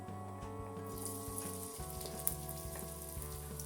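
Onion sizzles and crackles in hot oil, a steady fry with faint scattered pops, quiet and close, no talking.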